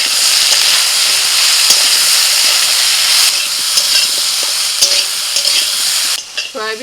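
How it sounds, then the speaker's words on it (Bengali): Soaked, squeezed soybean chunks and potatoes frying in oil in a kadai give a loud, steady sizzle with occasional stirring scrapes, settling into softer bubbling near the end; no one speaks. "সয়াবিন আর আলু ভাজা হয়ে গেছে"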